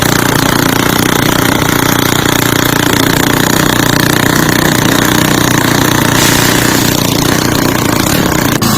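A crazy custom-built motorcycle engine runs loudly and close, a harsh, constant rattling clatter with a steady mechanical hammering for nearly nine seconds, alone without talk.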